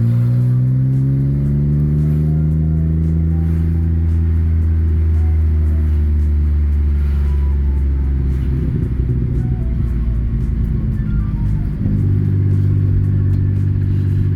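A BMW E90 325i flashed to 330i tune accelerating, the engine note rising steadily through the revs as a loud, close, smooth drone inside the car, with a brief dip and climb again near the end, no talk.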